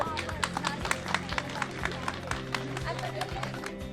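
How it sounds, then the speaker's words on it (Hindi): An audience at a Deepawali Milan celebration at Galgotias University claps in a dense burst of applause, with crowd murmur and voices mixed in throughout. "SBS वाले जरा जोरदार एक बार तालियां बजा दीजिए तो"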